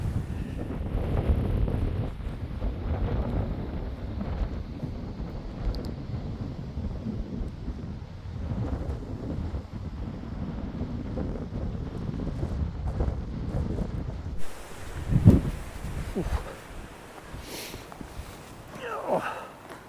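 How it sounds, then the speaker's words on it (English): Strong gusty wind buffets the microphone in continuous rumbling waves by the River Tyne at St Peters Basin, Newcastle, with a shift to a rushing, airy tone near the end and some distant clatter. "the wind, it's horrible when it howls down here"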